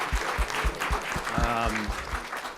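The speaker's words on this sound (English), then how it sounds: "let's give a round of applause to the panel for their excellent contribution" After a panel discussion on GIS in New York City, the audience claps, with loud, close, spaced claps running throughout. A voice speaks briefly partway through.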